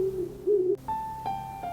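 An owl hoots in a snowy winter wood at night, a few tonal calls rising in pitch toward the end, heard alone without talk.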